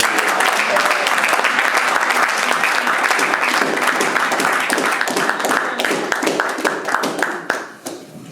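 Church congregation applauding loudly and continuously, a dense wash of many hands clapping close by with some voices mixed in, tapering off at the end.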